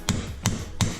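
A trailer axle bearing race being hammered out, three sharp metallic hammer blows at an even, steady rhythm, close and loud, with no talking.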